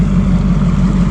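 A fishing boat idles on Oneida Lake during bass tournament practice, its engine giving off a loud, steady low rumble that holds evenly throughout with no voices.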